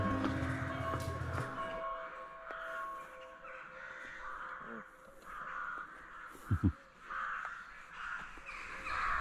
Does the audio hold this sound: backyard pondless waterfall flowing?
no